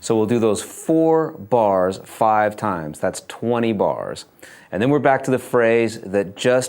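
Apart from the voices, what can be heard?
No everyday noises stand out.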